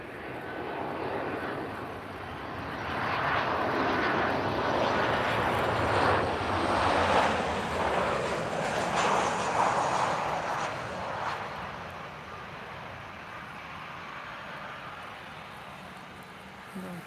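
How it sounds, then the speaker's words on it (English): A Ryanair Boeing 737 airliner at Lisbon Airport passes with a broad jet roar that swells to a peak midway and then fades, heard from a distance outdoors. "So Ryanair, Boeing 737"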